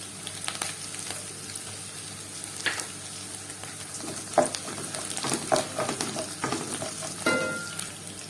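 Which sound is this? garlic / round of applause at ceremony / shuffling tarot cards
garlic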